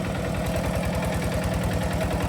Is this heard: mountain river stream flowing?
no